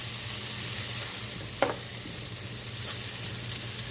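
Food fries in a pan with a steady, close sizzle while being stirred, and a brief scrape of the spoon rises above the constant hiss.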